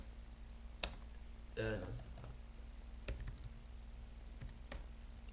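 A computer keyboard is used to type Japanese, with a few scattered key clicks, and a person briefly speaks between them over a low steady hum.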